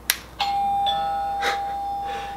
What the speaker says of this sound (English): This is like the doorbell.